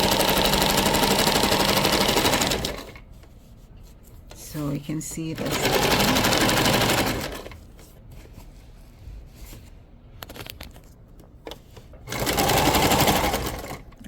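A sewing machine stitches patio chair upholstery fabric in loud, rapid bursts separated by pauses, with a voice speaking briefly between runs.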